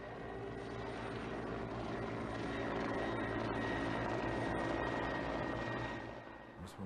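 Military aircraft, likely a helicopter, flying supplies by air to soldiers encircled behind Slovene barricades in 1991, heard as a steady, fairly faint engine drone with no talk.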